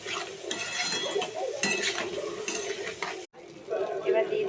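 Spices frying in a pan with cumin, tomato, green chili and ginger, stirred with repeated metal scrapes and clinks over a steady sizzle, close and busy, with a short gap near the end.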